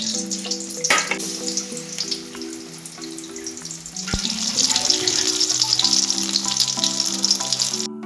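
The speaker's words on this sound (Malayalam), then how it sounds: "ഇനി നമുക്കിത് എണ്ണയിലൊന്ന് വറുത്തെടുക്കാം നമ്മൾ ഓരോന്നായിട്ട് ആ എണ്ണയിലിട്ടൊന്ന് പൊരിച്ചെടുക്കാൻ പോവാണ്" Stuffed ripe banana pieces sealed with maida paste deep-fry in hot oil, a steady close sizzle and crackle that swells louder midway, with faint tonal background music underneath.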